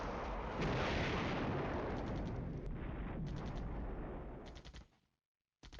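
Tanks fire on enemy positions in the Flashpoint Campaigns wargame, a loud, dense rumble of artillery-like blasts and gunfire that rolls on for several seconds before fading abruptly to silence.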